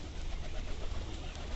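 Pigeons cooing as they return one by one, a faint, soft murmur of coos set against steady outdoor background noise.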